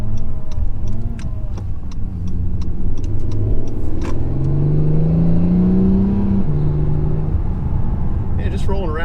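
An Acura NSX on all-season tires set around 33 psi cruises through town, its engine a steady mid-level drone with a rising pitch sweep partway through as it picks up speed, with light road noise throughout.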